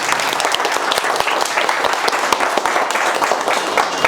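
An audience at a mobile phone repair training institute applauds loudly and steadily, dense clapping filling the whole stretch without a break.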